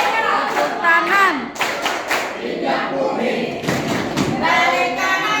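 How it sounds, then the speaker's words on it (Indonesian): Outdoor group of university trainees claps together in loud, rhythmic bursts of hand claps, with shouting voices mixed in between the claps. "Tepuk tangan."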